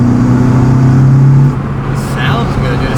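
A rebuilt Acura TSX engine revs with a loud, steady drone and intake whoosh for about a second and a half, then drops to a lower, rougher note as the revs fall, all close to the listener.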